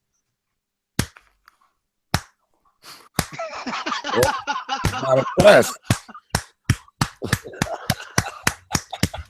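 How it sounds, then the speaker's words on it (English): A slow clap rings out in a quiet room: isolated sharp claps, then a stretch of talk with laughter, followed by a quickening run of about a dozen distinct claps. "Let me do the classic 80s teenage movie slow clap"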